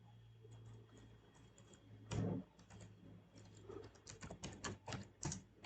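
Someone types Python code on a computer keyboard nearby in quiet bursts of clicking keystrokes. The pace turns busier and more rapid toward the end, over a low steady hum.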